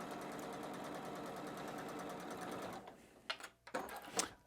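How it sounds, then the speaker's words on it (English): A sewing machine stitches fabric along a drawn line on a batik quilt block, running as a steady fast whir for nearly three seconds before stopping, followed by a few sharp knocks and handling noises. "So just lower the presser foot, dropping the needle in, and right on through we go."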